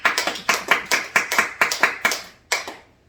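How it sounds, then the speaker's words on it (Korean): A church congregation at a Sunday worship service claps hands together in a brisk, uneven burst of roughly a dozen sharp claps, fading out and ending with one last clap. "우리 박수 한번 치겠습니다."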